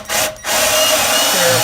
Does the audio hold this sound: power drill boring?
yes